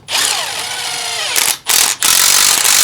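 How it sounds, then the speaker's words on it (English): A power drill drives self-tapping screws into the frame of a 3rd-gen Toyota Tundra during a suspension install, a loud sustained whine with a falling pitch, then two short bursts after a brief stop. "then we're going to do a self-tapping screw into the frame with that smaller one"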